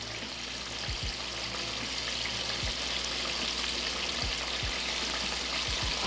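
Mustard-coated crappie fillets fry in a pan of hot oil, giving a steady, close sizzle with faint crackles and occasional low bumps throughout, no talking.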